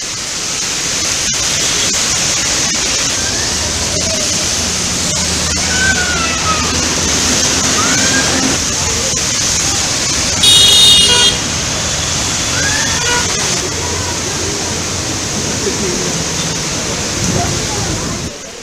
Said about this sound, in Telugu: హైదరాబాద్ లోని వివిధ ప్రాంతాల్లో భారీగా వర్షం దంచి కొడుతోంది